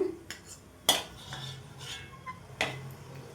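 Fried dry fruits are scooped from a pan into a bowl, with a spoon clinking sharply against metal twice among quieter scrapes and rustles, close and alone.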